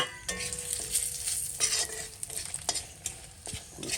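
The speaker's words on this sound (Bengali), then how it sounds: "এই তেলে দিয়ে দেবো তেজপাতা আর শুকনো লঙ্কা" Bay leaves and dried red chilies fry in hot oil for a Bengali taro-leaf dish, making a close, steady sizzle broken by repeated scraping stirs of a utensil against the pan.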